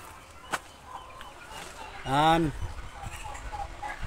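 A single throaty squawk from a chicken rises briefly over a low outdoor farm background with a few scattered knocks.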